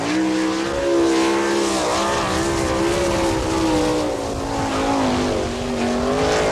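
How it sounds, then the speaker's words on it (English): A sprint car, number 28, takes the green flag for a timed lap at Attica's dirt speedway in Ohio in 1998. Its engine roars loud and close throughout, with a steady, slightly wavering pitch and no break. "Taking the green flag, putting the clocks in motion right now, out in car number 28."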